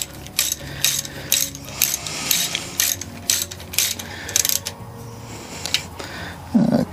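A ratchet torque wrench tightens nuts on engine case studs: rapid clicking pawl bursts in repeated strokes, close and loud, with short pauses between pulls.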